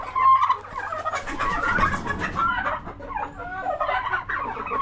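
Chickens on a small farm clucking and murmuring in a continuous, busy chorus of overlapping throaty calls at close range, with no talk.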